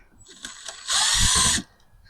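A power driver briefly whirs and ratchets while taking screws out during a car radio install, a short close burst of under a second following a few faint clicks.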